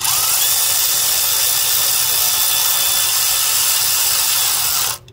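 An electric power tool with a 10 mm socket whirs continuously as it draws down the valve cover bolts on a 2011-2023 Ford Super Duty truck. The loud, steady whine stops abruptly near the end.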